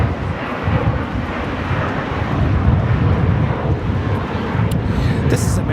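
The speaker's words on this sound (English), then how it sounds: "American Airlines Flight 4, taking off to JFK on the A321." American Airlines A321 taking off from LAX bound for JFK, a steady broadband jet rumble with wind buffeting, heard under intermittent talk.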